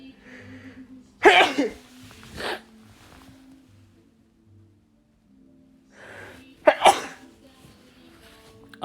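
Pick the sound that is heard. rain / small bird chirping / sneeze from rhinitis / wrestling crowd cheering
sneeze from rhinitis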